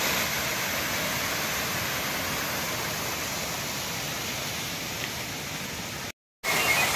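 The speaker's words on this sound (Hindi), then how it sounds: "कुछ इस तरह से झरना यहाँ पर झरती है" Kakolat waterfall near Rajgir, Bihar, pours down as a loud, dense, continuous roar of falling water, broken only by a brief cut near the end.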